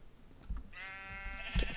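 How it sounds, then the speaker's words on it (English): Pig in a video game squealing, a harmonic bleating cry that holds for about a second, with a few soft thumps and clicks around it, quiet overall. "My pig is freaking out."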